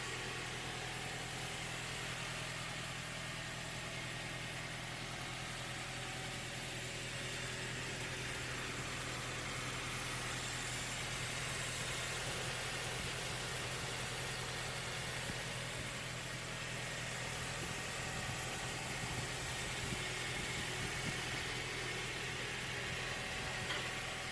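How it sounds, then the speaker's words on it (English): 2004 Toyota Tacoma engine idling, a quiet, steady hum with faint vibration, running rough and overheating, heard alone with no talk. "So it's got the engine running here"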